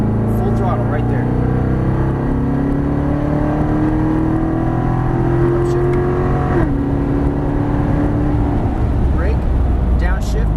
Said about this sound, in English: Squeeze on the power. Full throttle right there.